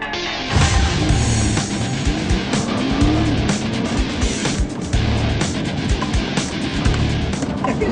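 A Nissan GT-R sports car making about 485 hp accelerates hard, its engine roaring loudly and close with rising pitch sweeps through the gears and tire noise throughout.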